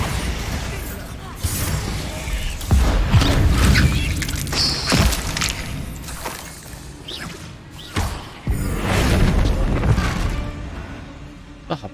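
A gunpowder barrel blows up from a Bombarda spell in the Hogwarts Legacy video game, sounding as heavy booms and thuds amid game music and effects, with a person talking over it.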